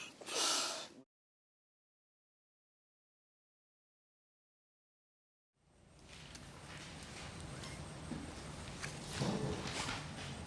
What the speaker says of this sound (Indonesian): Ambil napas kembali.